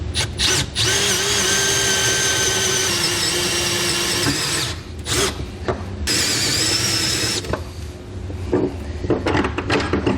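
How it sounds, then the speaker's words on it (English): A power drill with a step bit bores a half-inch hole in a truck bed for an underbed gooseneck hitch install, loud whining runs broken by brief stops and restarts, close up, with no talking. "And I like to use a step bit. You can just go up to the ½ inch size that they request"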